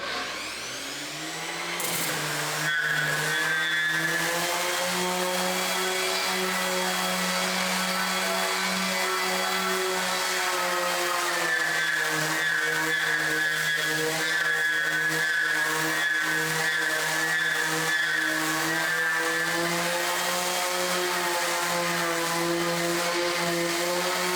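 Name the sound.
electric sander running at full speed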